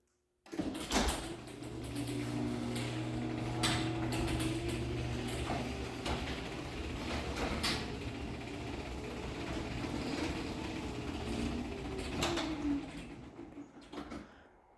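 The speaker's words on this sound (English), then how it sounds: "most of the noise you hear is just of the chain going around the sprocket" A chain-drive garage door opener runs steadily for over ten seconds, the chain rattling and clanking around the sprocket with a low mechanical hum, occasional sharper clicks, no voices.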